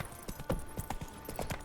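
Roach, the horse from The Witcher 3, galloping: quick, even hoofbeats close by, steady and rhythmic over a low background hum.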